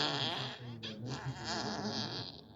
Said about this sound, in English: Here comes a squeaky fart.